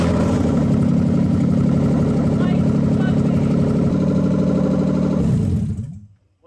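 A BMW E36 328ti engine runs steadily at idle, a loud continuous mid-low drone close by that holds for about five seconds before cutting off abruptly into silence, with voices audible over it.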